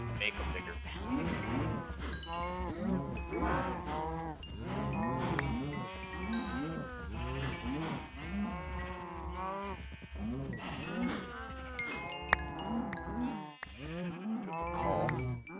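Many Minecraft cows moo over and over in a crowded pen in the Gregtech New Horizons modpack, with overlapping, drawn-out lowing calls that carry on steadily and stay close and loud.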